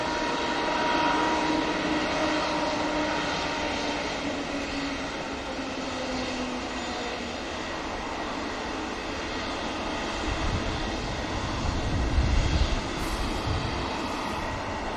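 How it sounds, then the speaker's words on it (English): An Airbus A321neo airliner rotates and climbs away on takeoff at Manchester Airport, a sustained jet engine roar with whining tones that builds toward the end, heard from a distance. "There's a 321 Neo, just rotates."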